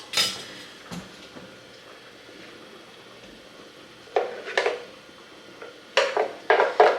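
Caramelized onions are folded into a bean dip in a bowl, producing bursts of clinking and scraping from a utensil against the bowl that come in two clusters after a quiet stretch, with no voices.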